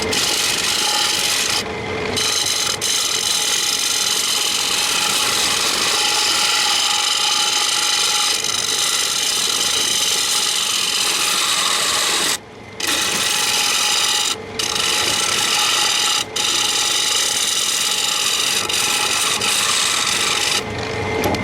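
Continuous loud scraping and rasping of a turning tool against a wenge platter spinning on a wood lathe, rough and grinding, with a few brief breaks.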